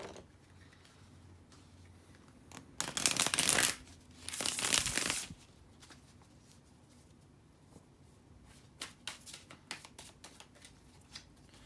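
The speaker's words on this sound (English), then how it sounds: "let me give a good shuffle to the cards" Two loud bursts of tarot cards being riffled and shuffled, each about a second long, followed by lighter taps and flicks of cards on a quiet background.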